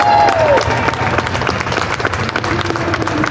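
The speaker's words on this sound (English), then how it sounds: "let's give a big round of applause for Kai Greene." A crowd at the Canfit World Fitness Expo in Toronto claps and cheers for a bodybuilder's appearance, with busy, lively applause in a large indoor hall and a brief voice at the start.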